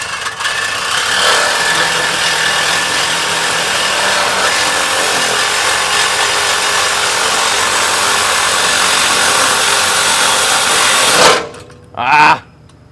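A saw blade cuts steadily through a sagging vehicle exhaust pipe with a loud, continuous grinding rasp that runs for about eleven seconds, then stops briefly and restarts in a short burst.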